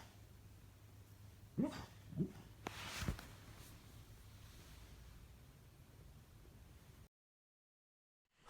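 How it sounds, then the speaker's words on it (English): Dog barking in its sleep indoors: a few soft, muffled woofs in quick succession, faint against steady background noise, then silence. "the bonus Sandy clip, Sandy barking in her sleep"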